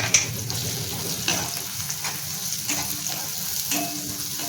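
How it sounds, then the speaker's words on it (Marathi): Turmeric, goda masala and Agri masala sauté in a pan for a Maharashtrian val bean curry, a close, steady sizzle with scraping stirs and light pops, no voice. "आता हे टाकून आपल्याला परतून घ्यायचे"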